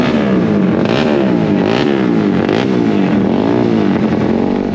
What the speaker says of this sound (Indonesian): teman-teman komunitas lagi pada panas-panasin dulu motornya